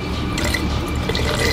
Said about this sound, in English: and just pour a little bit in.